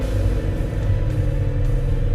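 Deep, steady rumble of a 2000 BMW E39 M5's naturally aspirated 4.9-liter S62 V8, 400 horsepower, held at an even, continuous idle-like drone with no voices over it.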